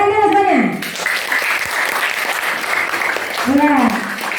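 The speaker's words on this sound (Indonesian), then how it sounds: "Tepuk tangan dulu semuanya." A school class claps together in a classroom, brief moderate applause squeezed between a voice speaking at the start and again near the end.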